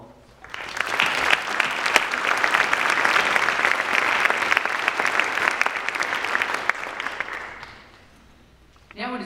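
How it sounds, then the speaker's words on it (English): A round of applause for Dean Hartman at a school's Hartman lecture, steady dense clapping from a seated audience that swells quickly, holds for about seven seconds, then tapers off before a voice resumes. "Please join me in acknowledging him with a round of applause"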